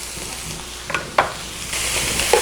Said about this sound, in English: let's go ahead and get the garlic and the ginger in